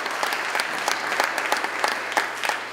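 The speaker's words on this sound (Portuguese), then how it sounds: "pode aplaudir para Deus" A church congregation applauds, dense continuous clapping from many hands filling the room, steady and fairly loud without speech over it.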